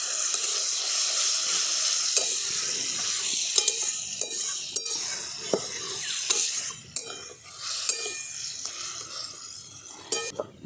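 Ridge gourd and potato sautéed with spice paste and a splash of spice water hiss in a pan, a steady loud sizzle broken by repeated scrapes and clinks of the stirring spoon, with no voices.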